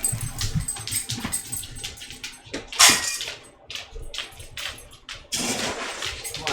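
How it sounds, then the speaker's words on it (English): Dogs at feeding time, whimpering and yipping excitedly in a rapid, uneven series of close, fairly loud cries, with one sharper burst partway through and clattering noise between. "I gotta feed the dogs real quick"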